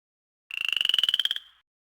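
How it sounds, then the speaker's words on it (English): Cartoon frog croak from a Nintendo DS picture book game: a single bright, buzzy trill of rapid pulses lasting about a second, clean and close against silence. "The frog jumped into the pond and came back up with the golden ball."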